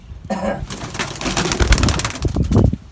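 Pet pigeons in a backyard loft coo in short, close, throaty bursts over a few seconds, with some rustling and possible wing movement mixed in.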